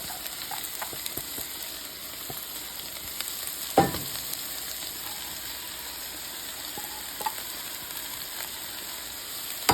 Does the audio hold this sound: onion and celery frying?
yes